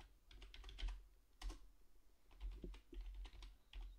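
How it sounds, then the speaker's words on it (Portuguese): Keys clatter on a computer keyboard as a password is typed while installing FreeBSD, in short irregular bursts of close, crisp clicks with brief pauses between them and no talking. "vamos digitar uma senha para o nosso usuário"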